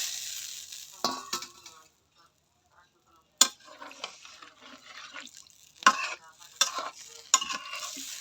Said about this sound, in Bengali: বোয়াল মাছের পাতলা ঝোল রান্না করবো এবার সবজি আর মাছটা দিয়ে দিব একসাথে দিয়ে দিলাম